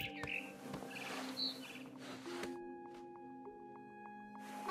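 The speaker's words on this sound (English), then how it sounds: "Then I heard chirping outside my window. It was a barn swallow going back to her nest." Barn swallow chirping near a nest in the video game What Remains of Edith Finch, with short high tweets over a steady tonal game soundscape, then a rhythmic series of repeated chirps.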